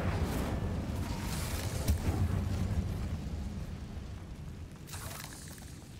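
A fire spell cast in Hogwarts Legacy erupts in a deep, rumbling whoosh, a low burst that swells and then fades, with a brief flare of hiss near the end.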